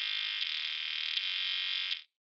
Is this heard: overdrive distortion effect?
yes